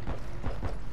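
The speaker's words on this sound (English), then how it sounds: "I hear footsteps" Footsteps in a multiplayer shooter match around a hard point, a few quick clopping steps close by in a steady rhythm, loud and alone with no talk.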